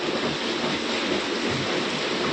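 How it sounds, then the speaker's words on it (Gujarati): Heavy rain falling steadily under cloudy skies, a dense, even hiss that stays constant and fairly loud from start to finish. "છેલ્લા બે કલાકથી બહુ જ વરસાદ પડે છે"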